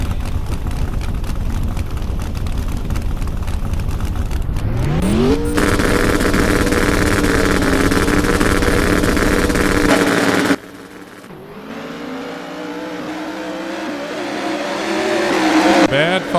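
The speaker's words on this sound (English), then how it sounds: "Bad Fox pulling up to the line, purging some nitrous" Pro Mod drag race cars roar loudly at a drag strip, with a long, steady hiss of nitrous purging and engines revving at the line. The roar cuts off abruptly, then a rising engine wail builds again toward the end.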